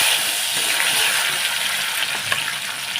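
Chopped garlic hits a hot pan with bay leaf and torn chillies for a soybean curry, giving a steady, close, bright hiss of frying oil that stays even throughout, with a few faint stirring clicks.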